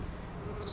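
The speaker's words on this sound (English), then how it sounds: "That's the bees there." Bumblebees in a newly set-up hive give off a steady, faint, close buzzing hum that runs without a break through the short moment, with no voices.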